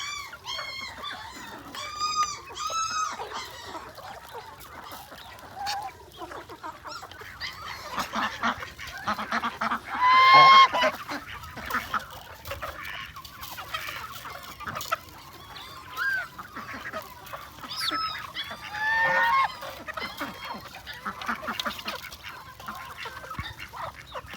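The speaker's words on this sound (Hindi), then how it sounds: "बड़ी डक्स आ गई हैं, छोटियों को भगा दिया उन्होंने।" A group of large ducks at a pet area, quacking and honking in overlapping bursts of varying loudness, with busy outdoor background noise and no clear speech.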